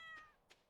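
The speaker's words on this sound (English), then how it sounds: "Meow. Sounds like my cat." Within the Stardew Valley farming game, a short, faint cat meow slides downward, followed by a soft, quiet click.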